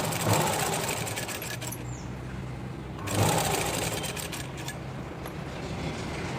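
A sewing machine stitches a blouse with a continuous close mechanical whir, swelling briefly at the start and again around the middle, with no talking.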